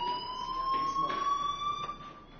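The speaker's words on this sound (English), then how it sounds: "Hey, do you hear that fire alarm?" A fire alarm in a video game sounds as a steady, sustained electronic tone, fairly quiet and continuous, with faint background noises under it.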